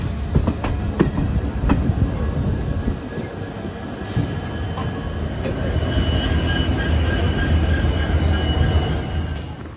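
A train returning from Dudhsagar waterfalls in Goa rolls along the rails with a loud, steady rumble heard from on board. Wheel squeal and faint clatter run through it, with no talking.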